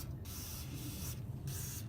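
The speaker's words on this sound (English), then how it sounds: "So since we're here, we'll just spray those down." Two short hissing bursts of penetrating oil sprayed from an aerosol can onto brake parts and a brake line, heard close and fairly quiet, each spray lasting about half a second with a brief pause between.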